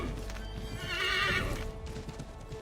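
A horse whinnies in Assassin's Creed III Remastered, a close, rising neigh over a steady clip-clop of hooves that continues throughout.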